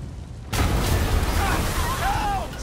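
Bomb explosion in the video game Marvel's Spider-Man, a sudden heavy boom that bursts in after a quieter lead-in and rumbles on with low-end debris noise, while voices speak faintly over it.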